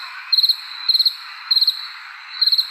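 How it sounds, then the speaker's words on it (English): Crickets chirp in steady rhythmic trills of four quick pulses repeated at regular intervals, clear and prominent over a soft constant insect hum, with no voices. "Hear the crickets?"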